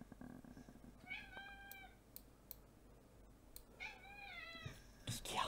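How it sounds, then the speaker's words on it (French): A house cat meows for petting, giving two drawn-out meows a couple of seconds apart, close and clear but not loud, with faint clicks and small handling noises between them and no talking. "le chat qui vient de réclamer des caresses"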